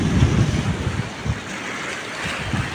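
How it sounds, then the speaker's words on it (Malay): Strong surf pounding on the shore beside a fishermen's jetty at Tanjung Rhu during a high tide, a steady roar of crashing waves with wind buffeting the microphone, close and loud with no talking. "Memang ombak kuat."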